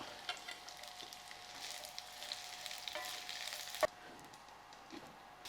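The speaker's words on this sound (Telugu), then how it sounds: "నూనె కాగింది నేను డైరెక్ట్ పొట్లకాయలు వేసేస్తున్నా" Thinly sliced snake gourd rounds fry in about a tablespoon of hot oil, a faint steady sizzle with light stirring scrapes and one sharp clack of a utensil; no talking.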